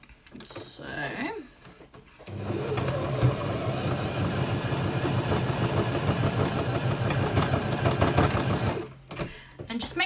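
A sewing machine runs a straight stitch along a fabric edge, a fast steady mechanical whirr lasting several seconds after a short pause, with faint handling sounds before it starts.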